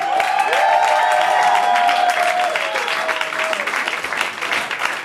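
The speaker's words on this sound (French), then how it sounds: "Je vous demande d'applaudir Souleymane Diamanka." A slam poetry audience applauds the poet Souleymane Diamanka with sustained, loud clapping and a few cheers, a wavering tonal whistle sliding over the crowd early before the clapping thins toward the end.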